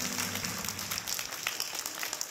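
Applause from the audience at the Kyiv Smart City Forum 2019, a steady wash of clapping hands at moderate distance, continuous throughout without any talk over it.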